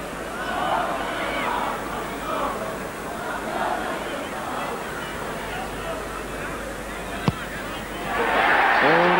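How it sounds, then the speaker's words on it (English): Rugby league crowd at a Castleford v Halifax match roaring after a touchline goal kick by a former Great Britain prop, a broad sustained murmur that swells loudly near the end with a sharp bang just before. "Good roar from the crowd, greets that goal."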